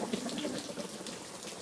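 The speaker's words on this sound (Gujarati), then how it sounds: "આજે વરસાદ આવી રહ્યો છે" Soft, steady night rain patters continuously on surfaces nearby, a quiet even hiss of drops with no voices.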